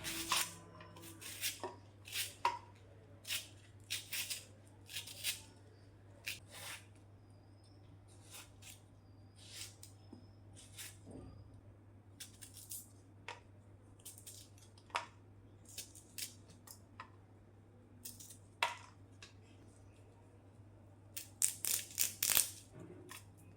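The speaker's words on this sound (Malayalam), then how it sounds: "ഇനി നമുക്കിതൊക്കെ ഒന്ന് അരിഞ്ഞെടുക്കാം" Tomato, onion, ginger, garlic, green chilli and curry leaves are chopped for a Kerala tomato curry, a knife tapping a board in quiet, irregular clicks and quick clusters, close and faint.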